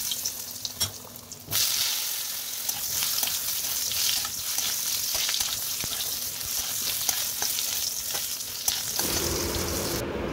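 Potatoes fry in a pan with a loud, steady crackling sizzle close by, broken by a few light utensil taps, the frying sound swelling after a brief quieter start.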